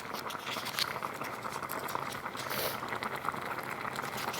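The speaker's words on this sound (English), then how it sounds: "You can hear it bubbling away" Sweet potato dahl with vegetable stock bubbling in a pot, a soft continuous simmering patter of small pops, close and fairly quiet, with no talk.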